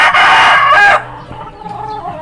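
A large, tall, black derby-size gamecock crows once loudly and close by, a strong drawn-out call lasting about a second and ending abruptly, followed by quiet clucking.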